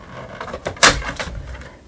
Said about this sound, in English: Open the front door